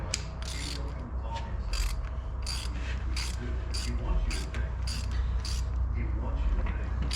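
A hand tap cutting new threads while repairing broken rods, giving a steady series of sharp ratcheting clicks and scraping bursts, close and clear over a low background hum.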